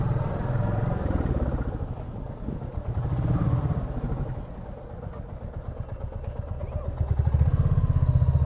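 A motorcycle engine idles and pulses up close on a Kolkata street as rain begins, its throbbing rising and falling throughout, with a voice briefly audible over it.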